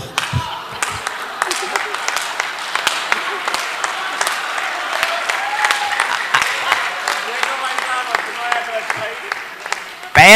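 Audience at a Hindi poetry recital breaking into applause, crisp clapping from a large crowd that runs throughout under intermittent voices, with a loud burst at the very end.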